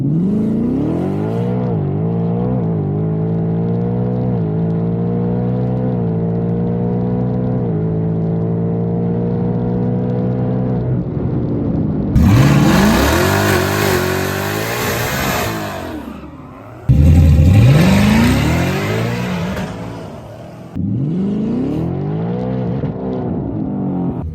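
A Whipple supercharged car engine with a carbon fiber intake tube revs through test runs, a loud sustained roar climbing in pitch, then sharper bursts with supercharger whine and cut-offs near the end.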